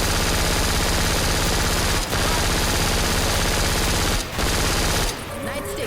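Rapid gunfire from a first-person zombie shooter, a dense, continuous burst of shots lasting several seconds, loud and close, with two brief gaps before the barrage thins out near the end.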